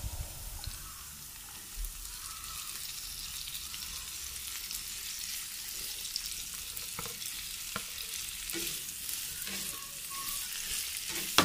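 Tofu (tokwa) sizzles in a pan as it fries for sisig, with a steady hiss and occasional scraping clicks of stirring throughout.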